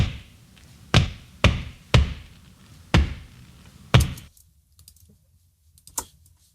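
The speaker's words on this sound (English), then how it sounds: "these are my feet stomping to the ground" Five heavy foot stomps on the ground at a steady beat, each a loud low thud with a short decay, followed by a faint lone tap after a pause.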